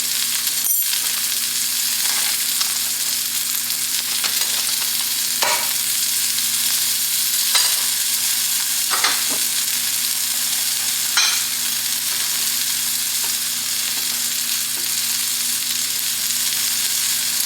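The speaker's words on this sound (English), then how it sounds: "I got it seared in this cast iron skillet" Meat sears in a cast iron skillet with a continuous, loud, close sizzle and hiss, broken now and then by faint clinks and scrapes of a utensil against the pan.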